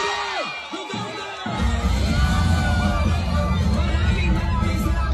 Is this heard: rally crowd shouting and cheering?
yes